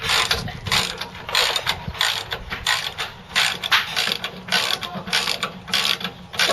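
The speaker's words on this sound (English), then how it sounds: "Well, let's just unscrew it out." A ratchet clicks rapidly and rhythmically while unscrewing the rear shock bolt on a 2004 Toyota Tundra, with steady repeated pawl ticks heard close.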